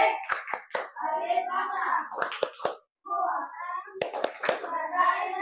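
Sixth-grade pupils in a school classroom clap their hands in quick rhythmic bursts between chanted children's voices, the claps sharp and close, breaking through the talking.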